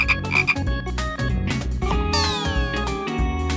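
Cartoon frog croaks sound in a children's counting puzzle game: several short, bright, tonal croak effects mixed with chiming musical tones and a rising whoosh, loud and close.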